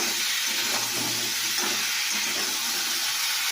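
Fish frying in a pan, a steady loud close sizzle and hiss that runs throughout without pause, with faint low bubbling beneath.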